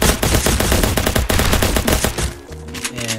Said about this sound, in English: Now I'm spamming the reload and shoot on this revolver here